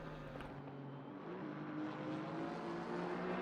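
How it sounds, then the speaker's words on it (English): A race car engine hums steadily in a racing game at Imola, a smooth sustained tonal drone with slowly rising pitch, moderately quiet and heard alone without talk. "The purr of that engine"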